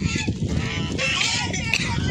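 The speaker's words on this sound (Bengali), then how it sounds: "সব রাজহাঁস এসছে।" Geese on a hillside honk a few times close by while people talk over them, the calls rising briefly above the chatter.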